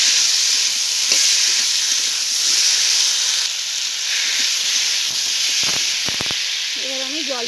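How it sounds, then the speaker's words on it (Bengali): Spiced potatoes with coriander leaves frying in a pan for a jhol curry, a steady loud sizzle and hiss with a few sharp scrapes of stirring near the end. "এবার এতে আমি ধনে পাতাটা দিয়ে দেবো, দিয়ে ভালো করে একটু কষে নেব।"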